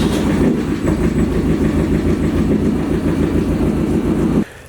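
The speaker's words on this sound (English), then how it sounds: "All right, the car is running" A race car's newly swapped engine running on its first start, a loud, steady rhythmic throb that chugs evenly for about four seconds before cutting off abruptly.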